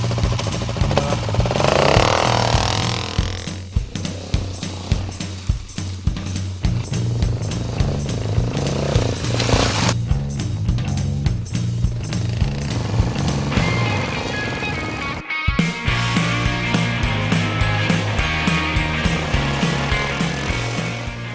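A Mash 400 Scrambler single-cylinder motorcycle starts and runs on a rainy night, its engine chugging steadily and loudly up close, with a brief cut before it resumes idling and revving.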